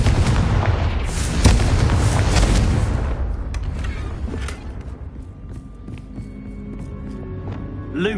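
Fiery Confringo spell blasts in Hogwarts Legacy boom out in a loud, rumbling cluster for about three seconds. The roar then dies away into a quieter, faintly ringing ambience, and no one speaks.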